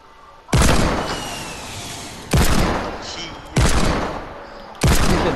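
Four loud, sharp shots of Fortnite gunfire boom one after another at irregular gaps, each one trailing off in a long echoing decay.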